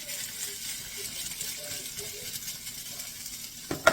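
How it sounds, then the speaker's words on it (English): Rice and chicken sizzle quietly in a hot pan, a soft steady frying hiss with small crackles, ending in a brief clatter. "You hear that sizzle?"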